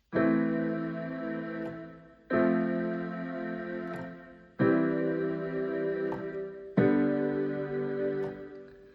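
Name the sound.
keyboard playing a theme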